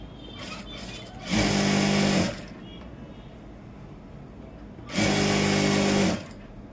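A sewing machine stitches a seam on a circle palazzo, running in two loud, steady bursts of about a second each, separated by a quieter pause with no talking.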